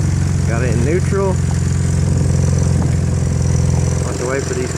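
Honda CM400T motorcycle idling in neutral, a steady low engine hum held at one pitch throughout, with people talking over it at the start and near the end.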